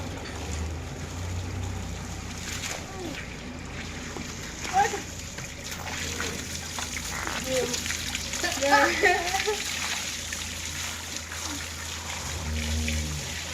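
Water splashes and sloshes in bursts, fairly close, over a steady rural background with occasional voices and animal sounds.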